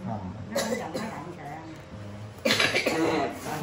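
Two harsh coughs, the second louder and longer, break out close by, with people talking around them.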